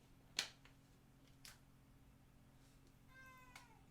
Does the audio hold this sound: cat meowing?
yes